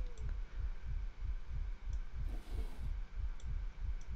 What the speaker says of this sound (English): that's a heartbeat on the wall